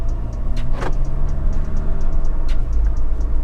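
A 2005 Mercedes-Benz E220 CDI W211 diesel turbo sedan pulling away, its deep engine rumble loud and close inside the cabin, with a steady light ticking over it.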